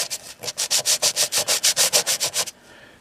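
A harmonica part being sanded flat-side down on a flat surface, about fourteen quick, even back-and-forth rasping strokes close up, then a brief quiet tail.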